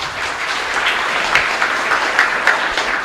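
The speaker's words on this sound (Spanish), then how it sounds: "pido un fuerte aplauso" A congregation at a patronal feast mass in Capilla Santísima Cruz, Ñemby, applauds loudly for the catechists and parish groups; a dense, steady, close roar of clapping with a few sharper claps on top.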